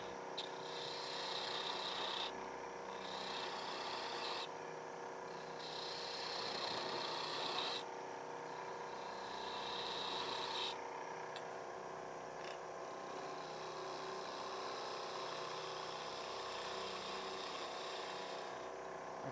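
Wood turning on a lathe, a large spindle gouge cutting a small cove in a bottle opener handle: a steady, continuous rasping, scraping cut that runs the whole time with slight swells and dips, close and fairly even, with no talk.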